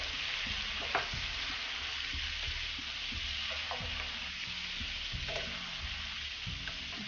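Kaleji (liver) fries in a pan with a steady, dense sizzle throughout, broken by occasional soft stirring scrapes and clinks, close and fairly loud, with no voices.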